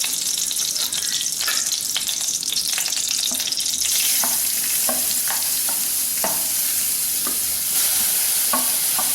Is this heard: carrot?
yes